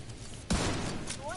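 A single sharp gunshot for a headshot in a video game, an abrupt loud crack about halfway through that trails into a short rumbling echo, with faint game sounds before it.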